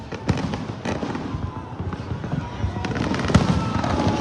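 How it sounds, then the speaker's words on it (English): New Year fireworks over Dubai, UAE, with dense bursts and crackling pops booming continuously at close range, a few sharper explosions standing out, amid crowd noise. "Enjoy the fireworks"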